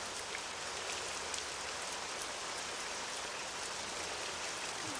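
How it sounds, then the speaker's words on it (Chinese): Steady rain falls outdoors as a dense, even hiss, loud and constant throughout with no voices. "好端端的怎么会下雨呢？"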